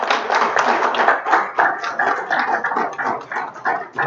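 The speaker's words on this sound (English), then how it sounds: "Give them a huge round of applause." Applause from an audience at a board of education meeting, a dense, steady patter of many hands clapping up close, with no talking.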